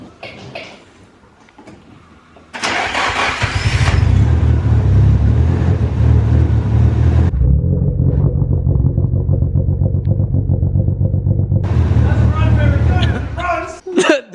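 A Nissan S13 with an SR20DET engine cranks and catches, then runs rough and loud with an uneven, lumpy idle and rattling clatter before cutting out, with people talking nearby.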